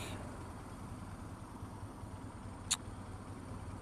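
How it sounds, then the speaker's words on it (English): Steady road traffic and engine roar heard from a moving motorcycle, a continuous broad wash of wind and road noise with one brief sharp click near the end. "Oh, traffic."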